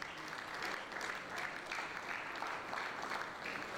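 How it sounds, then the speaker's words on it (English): Sustained applause from a workshop audience at an institute of education, a dense steady wash of many hands clapping without pause as a guest is escorted to the high table. "Let's keep applauding,"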